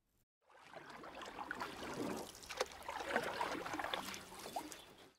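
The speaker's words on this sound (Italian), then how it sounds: "Acqua. Sotto di noi, a molti metri di distanza, c'è un fiume." A river flowing many metres below a mountain cliff edge, heard as a soft, continuous rushing and trickling of water that fades in after a brief silence and stays faint and distant.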